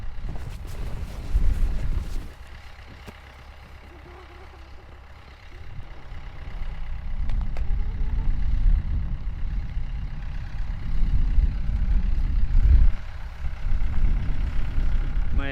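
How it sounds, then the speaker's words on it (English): A diesel tractor engine runs steadily for a snow-plowing job, a low rumbling drone that swells louder and rougher midway as if working harder, with no talking. "All right, I think the tractor is ready to work."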